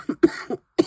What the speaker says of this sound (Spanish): es que ya no me dejó hablar la tos